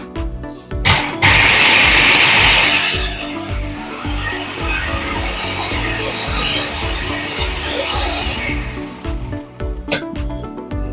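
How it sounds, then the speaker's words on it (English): A food processor purees chillies with a loud, steady motor whir and grinding blades that runs almost the whole time, rising sharply at the start and cutting out near the end. "So get them in the food processor."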